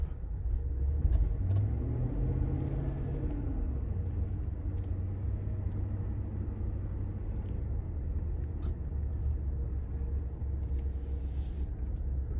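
A 2021 Cadillac Escalade ESV Premium cruises at low speed, its steady deep engine and road rumble continuous and close throughout, with faint tire and cabin noises over the drone.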